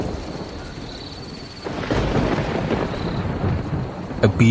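Cartoon rain and thunder: after a quieter opening, a deep rumble of thunder rolls in over heavy falling rain, ending with a sharp, bright crack.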